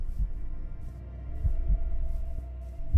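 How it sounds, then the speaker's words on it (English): Minecraft Hardcore heartbeat at night, low muffled double thumps repeating at an irregular pace over a faint steady hum, with no voices. "Of course, I hear heartbeats."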